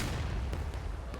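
Artillery fire rumbles in a war video game, a dense low booming barrage with a couple of sharper bursts standing out over the continuous roll.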